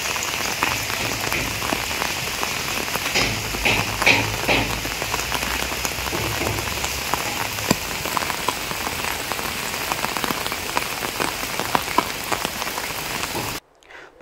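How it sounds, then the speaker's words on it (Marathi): Heavy monsoon rain in September pours down steadily on a surface, a dense continuous patter of drops that stays loud and even throughout before cutting to near silence at the very end. "सप्टेंबरच्या दुसऱ्या आठवड्यापासून पावसाने दमदार हजेरी लावली असल्याने बळीराजा सुखावला आहे."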